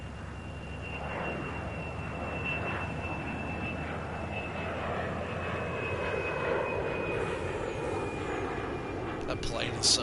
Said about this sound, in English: That plane is so loud.